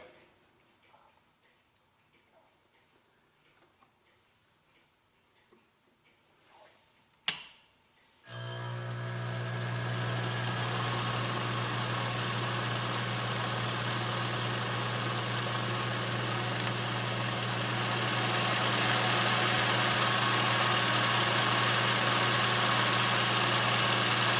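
A machine tool starts with a sharp clunk after several seconds of quiet ticking, then runs loud and steady with a constant motor whine and tonal hum while forming a multi-tooth cycloidal cutter blank for clockmaking.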